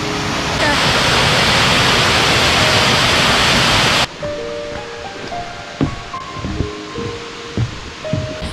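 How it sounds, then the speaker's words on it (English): A loud, steady rush of water falling at the top of Moxie Falls fills the first half, then cuts to quieter outdoor ambience with faint voices. "Oh, this is the top of the waterfall."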